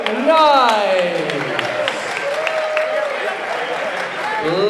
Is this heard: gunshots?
no